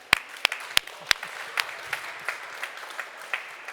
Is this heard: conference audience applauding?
yes